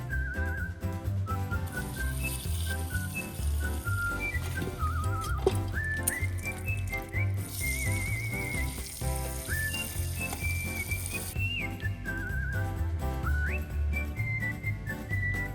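Oil heats in a wok at a riverside camp and gives off a steady low sizzle. Whistling tonal music plays over it for the whole clip, and no one speaks.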